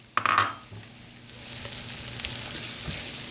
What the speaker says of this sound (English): I'm adding my shallot to my pan